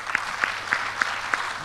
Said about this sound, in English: I would like to invite you to give big round of applause to all speakers today